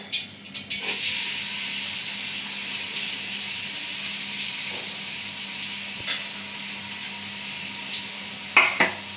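Onion fries in soybean oil with whole cinnamon, cardamom, cloves and black pepper, giving a steady soft sizzle with occasional stirring scrapes and a few clinks, fairly quiet throughout.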